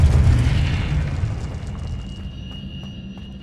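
The Confringo explosive spell in Hogwarts Legacy lands with a loud, deep booming blast that rumbles and slowly fades, followed by faint game sounds and no talk.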